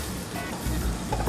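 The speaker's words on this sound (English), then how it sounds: "I'm just gonna saute it until the onions are translucent and tender" Onions, mixed herbs and garlic sauté in a hot oiled pan, giving a steady close crackling sizzle that swells slightly partway through, with no talking.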